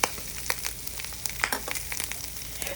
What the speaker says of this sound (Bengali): 3টে করে আমি 6টা পিসকে খুব সুন্দর করে একটু গ্রিল করে নিচ্ছি, জাস্ট ভেজে নিচ্ছি।